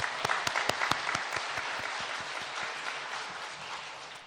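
Applause from a church congregation at a Christmas service, dense clapping near and loud with a few sharp claps standing out early, then settling into a steady wash that fades slightly at the end.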